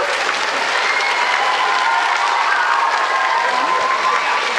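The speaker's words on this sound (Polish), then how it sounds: "teraz tak oklaskiwać młodych kolegów," A theatre audience gives warm, sustained applause for young performers of a movement-theatre group on stage in a Polish cultural centre. The dense, steady clapping of a large crowd holds level and loud through the whole stretch.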